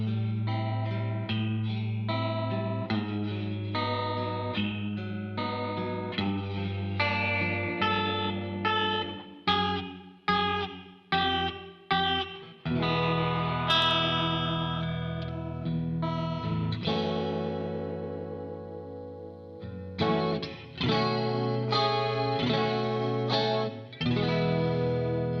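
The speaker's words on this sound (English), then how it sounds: "Those were just some of the sounds that are possible on Wampler Terraform pedal" A Wampler Terraform modulation pedal runs through an extended guitar passage of sustained chords and choppy stabs, swinging between lush chorus shimmer, distorted grit and pulsing tremolo cuts, loud and steady with no talk.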